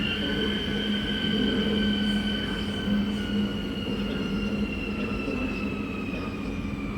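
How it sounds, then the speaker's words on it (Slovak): A passenger train of the Slovak railway company's S2 line pulls into Kysucké Nové Mesto station, a steady loud rolling rumble with a sustained hum and high whine or squeal of wheels running throughout. "Osobný vlak linky S2 železničnej spoločnosti Slovensko"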